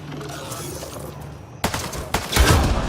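Gunfire in the sci-fi video game Mass Effect: Andromeda, aimed at a Ket device: a sudden burst of sharp, loud shots in quick succession following a quieter ambient stretch, with a heavy low thump toward the end.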